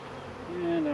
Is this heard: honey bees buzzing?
yes